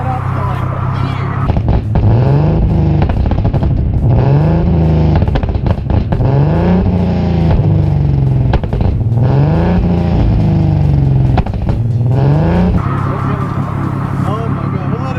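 A tuned Nissan 370Z exhaust revs loudly up close in a series of rising and falling bursts, crackling and popping as it fires flames, with a person talking between the revs.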